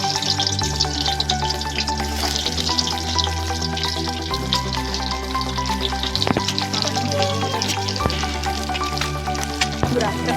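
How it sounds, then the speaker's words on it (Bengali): Stuffed eggs frying in hot oil, a continuous crackling sizzle with bursts of spatter and faint clinks of utensils, steady and close, with a low hum running beneath. "এখন লাল লাল করে ভাজা হয়ে গেছে পুরো ভরা ডিমটা"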